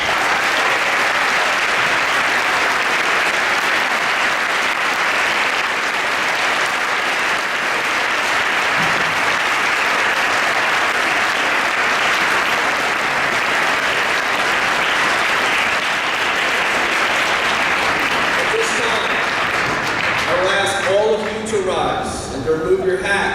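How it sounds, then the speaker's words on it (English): A large school audience at Radnor High School gives sustained applause for honored veterans, a loud, even roar of clapping that holds steady before fading, with a few voices emerging at the end. "join me in a round of applause to thank them for their"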